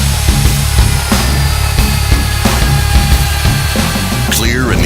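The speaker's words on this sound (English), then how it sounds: "ECO.30 magnetic drilling machine." Euroboor ECO.30 magnetic drilling machine with direct spindle drive, drilling steadily with a loud, continuous grinding hum and periodic cutting ticks, ending in a brief squeal.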